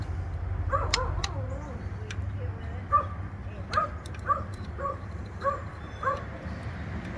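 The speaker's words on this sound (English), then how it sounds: "my dog out there, she's not real happy with me right now." A dog outdoors on a farm gives a series of short whimpers and yips at moderate distance, repeating every half second or so over steady low background noise.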